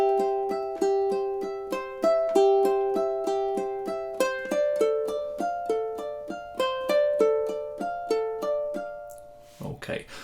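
A ukulele picks the opening two measures of Bach's Prelude in C as a steady stream of arpeggiated notes, each chord rolled upward in an even rhythm, with a brief soft noise at the end.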